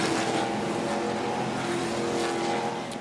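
Onboard engine roar from Stuart Friesen's No. 52 NASCAR Camping World Truck Series race truck on the 2.45-mile Watkins Glen road course, a loud steady drone held throughout under hard throttle, with faint tire noise.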